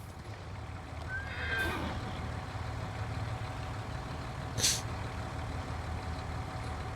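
A horse in the video game Farming Simulator 19 gives a single loud whinny early on, over a steady low rumble of background machinery, followed later by a brief sharp hiss.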